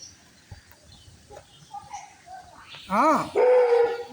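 A dog gives a few whining, whimpering yelps, then a louder drawn-out bark-like whine, close by over faint background noise.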